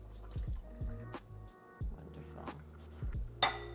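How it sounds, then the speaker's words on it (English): Clams and their juices tipped into a pot of Portuguese fish stew, with soft, faint splashes and scattered drips over a quiet, steady background. "I'm gonna add my clams with all their juices."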